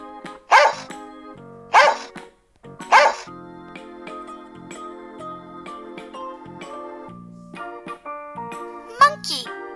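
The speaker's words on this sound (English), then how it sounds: "Dog." A cartoon dog barks three times in sharp, evenly spaced bursts over a light children's musical backing, followed by a softer yip near the end.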